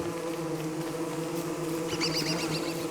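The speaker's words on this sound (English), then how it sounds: "how many mean bees are there?" Mean bees swarming in the game Don't Starve give a steady, close insect drone throughout, with brighter buzzing swells rising near the end.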